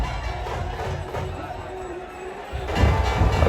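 Dense crowd hubbub and cheering at the Shivrajyabhishek coronation celebration on Raigad fort, a steady roar of many voices that swells louder near the end.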